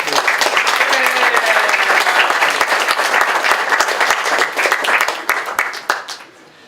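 Wedding guests applaud in a loud, sustained round of clapping with sharp individual claps standing out, tapering off near the end as a voice briefly comes through.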